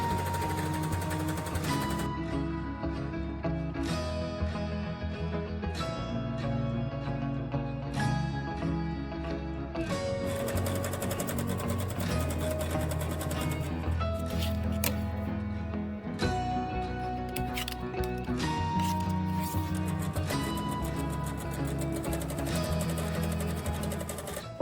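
A sewing machine stitches quilt pieces in a steady, close, rapid mechanical rhythm, running in bursts separated by brief pauses as the fabric is repositioned.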